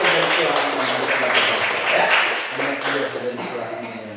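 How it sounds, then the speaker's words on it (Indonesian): Children in a primary school classroom clapping for a classmate, a loud close burst of mixed hand claps with voices underneath, gradually thinning out. "sekali lagi tepuk tangan untuk Pio"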